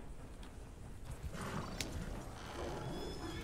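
A horse in the Red Dead Redemption video game neighs and clops its hooves, fairly quiet against a constant low rumble of game ambience, with a brief bright whinny in the middle.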